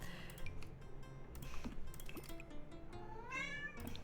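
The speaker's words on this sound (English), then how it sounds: "Is it weird we knew her by her meow?" A pet cat meows several times indoors, with a drawn-out rising meow near the end over a soft background of small household clicks and rustle.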